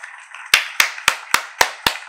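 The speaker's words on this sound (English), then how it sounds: "Let's give a hand clap for the show." Six sharp, evenly spaced claps ring out, punctuating a podcast show segment, each a loud, crisp slap with no voices over them.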